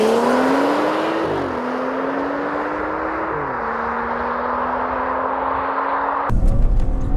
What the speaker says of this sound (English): and it launches like you wouldn't believe.